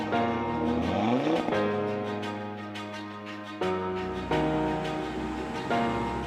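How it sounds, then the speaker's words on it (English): An Audi RS3 Sportback, a compact four-wheel-drive car, accelerates with a loud, steady engine note that rises in pitch, then shifts and climbs again through several gear changes, with no one talking. "Even at the slightest touch of the accelerator pedal, the four-wheel drive sounds as if it has a tremendous amount of power."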